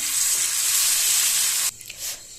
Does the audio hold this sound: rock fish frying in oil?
yes